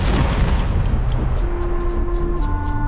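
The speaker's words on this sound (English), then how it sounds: "Ready for cannon firing." Cannon fire in the point-and-click adventure game Return to Monkey Island: a dense, loud booming roar running steadily through the whole stretch, with no talk over it.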